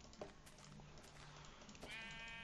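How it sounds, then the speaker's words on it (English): A sheep in the video game Minecraft gives a short, wavering bleat near the end, heard over a faint background hum with a couple of soft clicks, and no talking. "There seem to be sheep falling in the hole."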